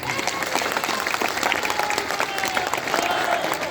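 Dense, steady applause from a large crowd at a pension rally in Varanasi, loud and sustained throughout with no breaks.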